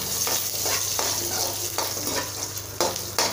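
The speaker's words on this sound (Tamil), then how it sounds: "சிறிதளவு எண்ணெய் ஊற்றிக்கலாம். எண்ணெய் ஊற்றி நல்லா வணக்கிக்கலாம்." Peppers, garlic and shallots sizzle and fry in hot oil in a pan, with steady crackling and a few scrapes of stirring, close and alone with no voices.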